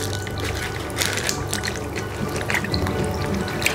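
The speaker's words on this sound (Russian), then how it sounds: "Пергаментную бумагу мочим в воде." Water-soaked parchment paper being wrung out over a baking tray, with close, irregular drips and small trickles splashing for several seconds, no talking.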